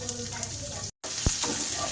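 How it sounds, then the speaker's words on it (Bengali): One chopped onion fries in hot oil in a frying pan, a constant close sizzle that cuts out briefly, then returns with a few sharper spatters and scrapes. "পেঁয়াজটা আমি হালকা ভাজা করে নেব"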